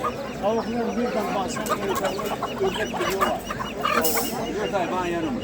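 White chickens and roosters cluck and call continuously at a busy poultry market in Kırıkkale, close and lively, with people talking among the birds.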